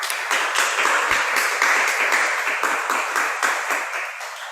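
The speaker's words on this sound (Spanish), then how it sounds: "Lo recibimos con un gran aplauso." Big applause from an audience at a science lecture, dense steady clapping that holds loud throughout and tapers slightly at the end, heard alone without talk.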